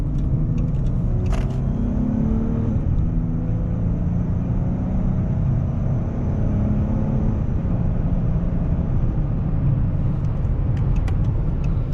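A 2012 Dodge Charger SE V6 sedan with 150,000 miles cruises on a freeway, its steady low engine drone and road rumble filling the cabin loudly and evenly, with no talking.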